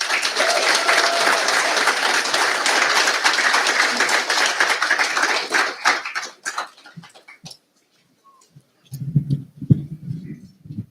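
An audience at a Pasifika speech event applauds loudly and densely, the clapping thinning into scattered claps before fading, then a few low voices murmur near the end.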